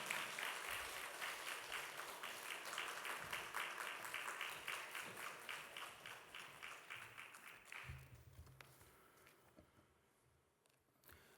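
A church congregation at a family worship service gives dense applause to welcome a preacher to the pulpit, sustained and fairly even for about eight seconds before thinning out and fading near the end.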